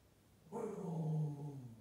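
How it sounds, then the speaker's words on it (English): A dog growls and then barks, one short close vocal burst in a kitchen with no voices over it. "Why are you barking? Are you stuck in the kitchen again?"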